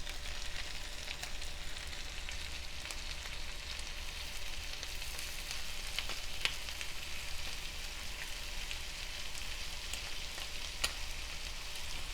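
Sardines fry under a spread of ground paste with raw mango, a soft continuous sizzle and crackle with a few faint pops, close and steady, no voices.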